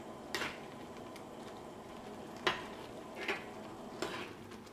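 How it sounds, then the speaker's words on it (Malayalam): Beetroot pachadi curry is stirred in a pan, four or five soft spoon scrapes and taps against the metal spaced a second or so apart over a faint steady sizzle, close and quiet. "ഇതെല്ലാം കൂടിയിട്ട് നന്നായിട്ട് ഒന്ന് മിക്സ് ചെയ്യാം"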